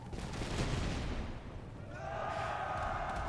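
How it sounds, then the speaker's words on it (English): Cannons fire across a Master of Command battlefield with rumbling, distant booms and a rolling crackle of musketry, followed by a sustained tonal drone in the background. "We skipped a cannonball through their formations."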